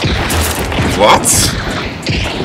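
Gunfire in the video game Hunt: Showdown, a couple of loud sharp shots with a booming tail amid game ambience, while players talk over it.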